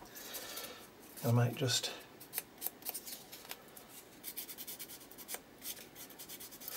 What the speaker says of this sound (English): file the back of that paper just to get rid of that bump where it's punched through